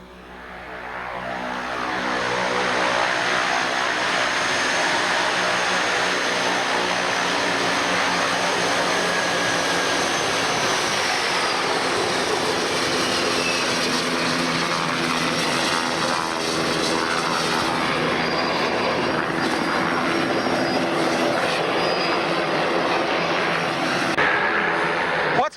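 A turboprop crop-duster plane used in agricultural aviation flies overhead, its steady engine and propeller drone staying loud and continuous for about twenty-five seconds, with a faint pitch shift midway.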